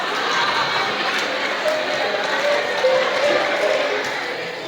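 An audience claps at a motivational seminar held at an Islamic boarding school in Banten, a dense, steady roar of many hands clapping together at a loud level throughout.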